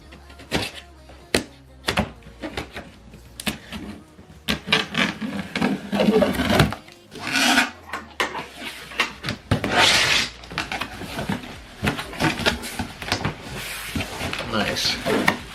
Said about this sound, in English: We're going to unbox this product.